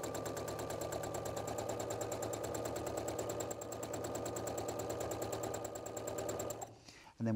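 A domestic sewing machine stitching around bat shapes cut from fabric runs in a fast, steady mechanical chatter for several seconds, then stops abruptly, followed by a brief spoken voice.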